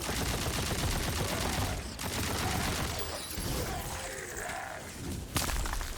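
Rapid automatic gunfire from a weapon in the video game Tiny Tina's Wonderlands, a dense, loud continuous barrage with crashing impacts and a brief lull near the two-second mark.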